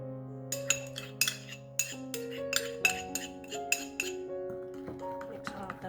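A utensil clinks against a glass bowl while olive oil, melted butter and sauce ingredients for baked Thai basil honey garlic salmon are stirred together, light rhythmic taps over soft background music.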